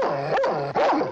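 A dog barks and yelps sharply at close range in a tense yard scene, a few loud harmonic bursts in quick succession with a brief gap between them.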